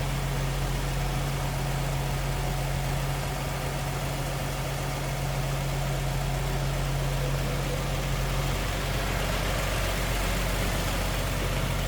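A 1951 Chevrolet Styleline Special sedan's 216 inline six idles steadily with a low, even hum, heard close and alone with no talk, its tone shifting slightly near the end.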